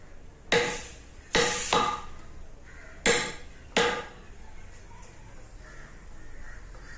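Hammer striking a chisel during Chettinad-style wood carving, five sharp, close knocks at uneven intervals with a quick double blow, over faint room background and distant birds.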